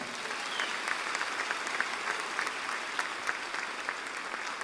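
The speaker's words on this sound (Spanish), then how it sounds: "Ahora dale un fuerte aplauso al Señor" A church congregation claps for the Lord during a Spanish-language sermon, a steady dense wash of applause from many hands, moderately loud and sustained throughout, with no talking over it.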